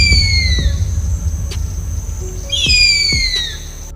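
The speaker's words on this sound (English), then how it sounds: "Bald eagle." Bald eagle calling with high, thin descending piping cries, one series at the start and another a few seconds later, heard outdoors over a steady low rumble of background noise.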